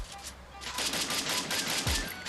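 Automatic gunfire in the Free Fire mobile shooter, a steady close rattle of rapid shots after a brief quieter moment, loud and continuous with game effects behind it.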